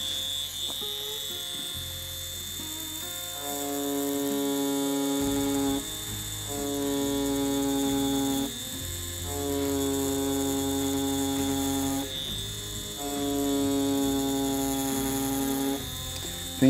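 A tattoo machine drives its needle to pack solid black, giving a continuous, steady electric buzz with a bright whine, close and loud, dropping and rising slightly in a few short pauses.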